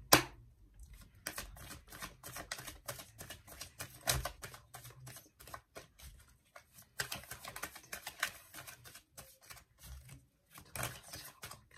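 Oracle cards being shuffled and laid out for a Taurus tarot reading, a rapid run of crisp papery slaps and flicks in close, busy bursts with brief pauses, no voice present.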